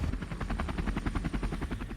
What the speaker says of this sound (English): A helicopter rising from the pit of the Mwegaro Hills ahead of us.